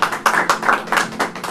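A congregation claps during a New Year sermon, in short uneven bursts of palm strikes spread across under two seconds, moderately loud, with no voice over it.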